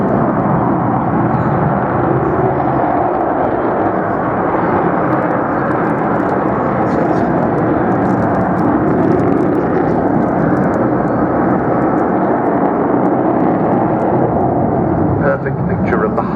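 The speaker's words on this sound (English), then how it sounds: "What a beautiful backdrop to have this wonderful aeroplane displaying in front of us." Avro Vulcan XH558 delta-wing bomber displaying at the Bournemouth air show, a steady, loud, broadband jet roar sustained throughout under the commentator's voice.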